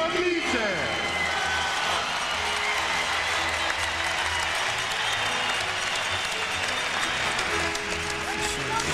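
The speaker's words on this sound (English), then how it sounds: "It's so good to get tepid applause announcing the gold" A large arena crowd at the 2002 Salt Lake City Olympic pairs figure skating gives sustained, even applause, a broad continuous roar of clapping with a faint voice over it.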